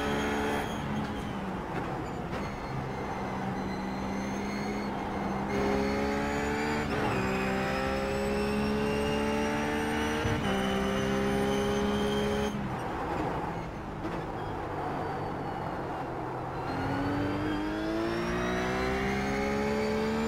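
A RUF race car engine in the iRacing simulator at Oulton Park repeatedly revs up through the gears, its pitch climbing steadily between shifts, loud and constant with faint tyre noise.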